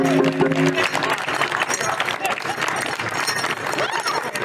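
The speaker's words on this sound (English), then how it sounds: "give yourselves a great big round of applause" Outdoor audience at a Native American dance performance gives a big round of applause, dense steady clapping throughout with a few voices mixed in.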